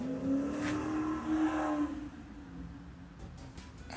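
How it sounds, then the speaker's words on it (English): Sports cars such as Hellcats, Mustangs and Porsches revving nearby, heard faint and distant as one engine drones and then fades out. "There's been some Hellcats and Mustangs and Porsches ripping around here, so I get excited."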